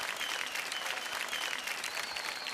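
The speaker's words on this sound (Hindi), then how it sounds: "एक बार जोरदार तालियां असद मोदी जी के लिए." A large crowd at a televised awards show claps loudly and steadily, a thick continuous burst of applause with no speech over it.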